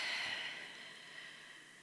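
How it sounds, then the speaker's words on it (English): A single deep exhale during a stretching exercise, airy and close, fading gradually into quiet. "Breathing into your belly,"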